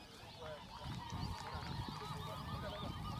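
Several birds call repeatedly in overlapping honks and cries, moderately near, at a cool, windy river wetland in Jigawa State, Nigeria, with a low outdoor background and faint voices.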